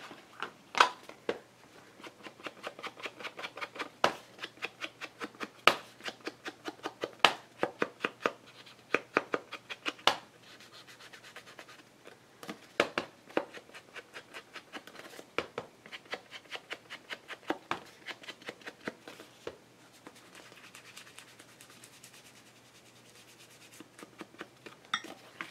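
Paper edges inked with an ink pad while crafting a loaded envelope of vintage doily-style papers, a quiet close series of irregular dabbing and rubbing taps in uneven bursts, no voices.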